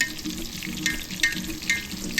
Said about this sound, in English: So just keep on splashing the oil and keep a close eye on it